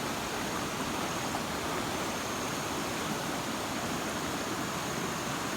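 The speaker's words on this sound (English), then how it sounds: "I'm gonna let y'all guys sit here, watch the creek." Whitewater creek rushing in flood, a constant dense roar of churning water with no breaks, steady and full throughout.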